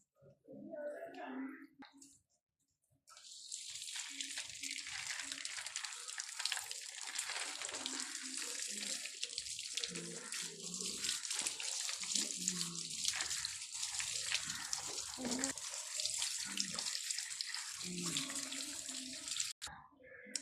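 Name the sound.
washing cherries under running tap water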